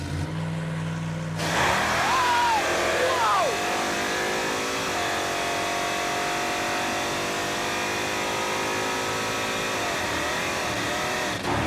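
A Chevy Impala drag car, over two tons with big horsepower, launches hard off the starting line, its loud engine roaring and climbing steadily through the run while voices talk over it.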